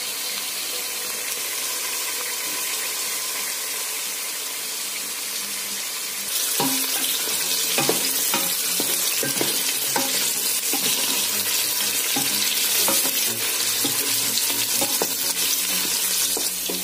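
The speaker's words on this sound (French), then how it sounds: "faites revenir les carottes en premier lieu dans de l'huile" Carrots frying in oil: a soft, steady sizzle that turns louder and crackling partway through, with occasional clinks of stirring and no talking.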